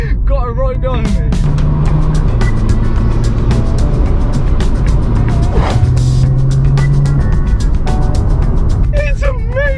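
A car fitted with a new aftermarket exhaust drives under hard acceleration, its loud, continuous engine drone rising and shifting steadily, close and strong throughout, with talking over the top.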